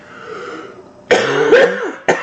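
A man coughs hard, a sudden loud harsh burst followed by a second short cough, close up after a quieter stretch of breathy sound.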